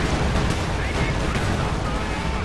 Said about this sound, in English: And then comes the anti-tank strafe.